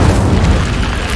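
Incendio fire spell going off in Hogwarts Legacy: a loud, dense booming burst of flame that stays heavy and sustained for about a second, with no talking.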